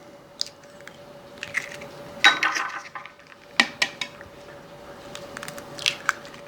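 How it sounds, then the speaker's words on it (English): Eggs cracked and dropped one at a time into cornbread batter in a mixing bowl for a Mexicali pie, giving a few close, soft wet taps and clinks against the bowl over a quiet kitchen hum. "Then I'm going to add my eggs."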